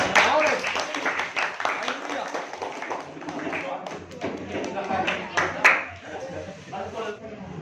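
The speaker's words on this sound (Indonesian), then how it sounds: "Kita tepuk tangan" Classroom clapping for a school music ensemble group, scattered hand claps and taps from pupils at close range, uneven and continuous, mixed with voices talking over them.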